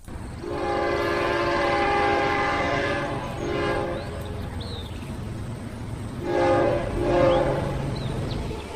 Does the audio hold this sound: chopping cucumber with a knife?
no